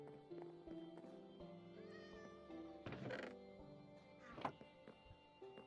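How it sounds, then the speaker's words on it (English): A cat in the video game Minecraft gives several short, quiet meows spread over a few seconds, with faint game sounds around them. "Wasn't expecting a cat there."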